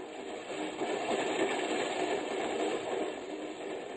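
A train in an old-time radio drama runs as a steady, dense rumbling roar, continuous and fairly loud with no voices over it.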